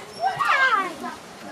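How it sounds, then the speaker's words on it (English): A short, high-pitched whimpering whine, close and fairly loud, rising and wavering for about a second before trailing off. "two random dogs have appeared."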